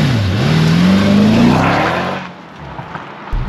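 A Mercedes-AMG E63 S estate accelerating hard, its engine roaring loudly from inside the car with a rising pitch over about two seconds, then easing off into a quieter rumble and faint cabin noises.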